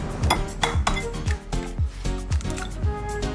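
Eggs whisked in a bowl for Japanese korokke make quick, rhythmic clinking strokes of metal against the bowl, close and steady, with no talking.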